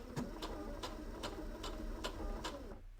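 A sewing machine runs a short securing stitch, its needle thumping in a quick, even rhythm of about seven close beats before it stops.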